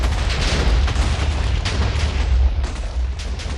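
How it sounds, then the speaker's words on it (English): TNT blocks detonating in Minecraft produce a dense, sustained rumble of overlapping booms with heavy low-end, loud and continuous throughout. "we'll get some explosions happening"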